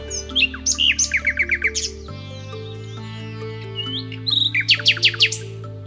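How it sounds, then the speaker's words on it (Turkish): Birds in the woods of Polonezköy, Beykoz, Istanbul chirp in quick bursts of bright, rapid notes, pausing in the middle, over a steady hum of tones in the background. "Sadece kuş seslerini duyarsınız burada."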